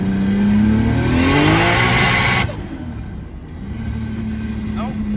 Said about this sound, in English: I think I'm gonna do a quick second gear pull here